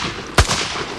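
A single sharp gunshot rings out in a dramatized war-crime reenactment, one loud close crack that decays quickly over a low background hiss.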